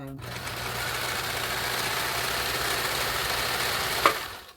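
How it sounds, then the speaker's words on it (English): A vintage Sears Kenmore sewing machine stitches fabric in a steady, fast whir that runs continuously at close range, then stops with a small clunk near the end. "It's stitching very well."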